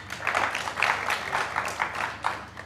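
A studio audience applauds to vote for a contestant on a Ramazan iftar television show: steady, dense clapping from many hands, moderately loud and continuous throughout.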